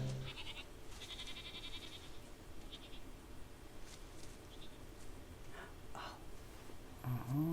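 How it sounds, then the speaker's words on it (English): Goat bleating in short, fairly faint calls with snorts and breathing at close range, heard amid the ambient sound of a dramatic scene, with no speech over it. "Can you step away from the goat?"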